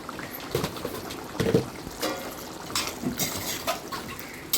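Water splashes and trickles into a cooking pot for a vegetable pulav in a home kitchen, with irregular splashes and dribbles at a moderate level.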